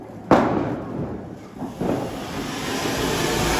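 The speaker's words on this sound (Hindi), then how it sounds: "यो पटाखा देखे तुम कैसा" A Diwali firecracker explodes outdoors with one sharp, loud bang. A second softer burst follows, then a lingering hiss and crackle.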